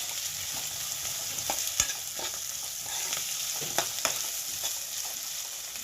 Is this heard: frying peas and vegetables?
yes